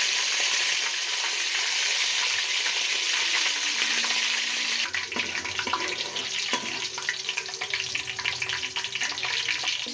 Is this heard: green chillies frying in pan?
yes